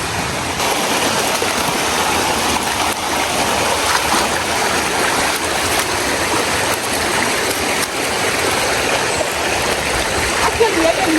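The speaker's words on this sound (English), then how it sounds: "Yeah, beautiful waterfalls." Steady, dense rushing of the Napuru waterfall in Arusha, Tanzania, a loud unbroken roar of falling water that fills the whole stretch without pause.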